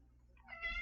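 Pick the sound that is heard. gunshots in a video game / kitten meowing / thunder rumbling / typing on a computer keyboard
kitten meowing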